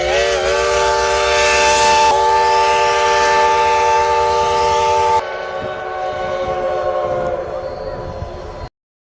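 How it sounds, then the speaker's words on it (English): A steam locomotive's chime whistle sounds loud and sustained, one long musical blast, cut off, then a second slightly fainter blast, with no talk. "Wow, that steam whistle is awesome."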